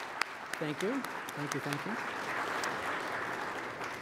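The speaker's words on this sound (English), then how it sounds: "A round of applause for them as well." An audience at a civic forum on city design applauds steadily throughout, a dense wash of clapping from a moderate-sized crowd, with a brief spoken thanks near the start.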